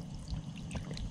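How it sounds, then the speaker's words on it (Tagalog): Water from a dipper poured into a pot of dried fish sinigang in a rural Ilocano kitchen, a brief gushing, splashing pour heard close up without any talking. "Lagyan natin ng isang tabong ano, tubig."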